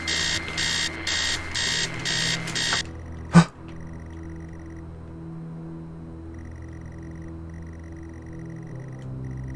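An alarm rings in the video game Stories Untold, a loud pulsing electronic beeping for about three seconds that cuts off abruptly with a sharp click, leaving a low steady hum and faint intermittent tones.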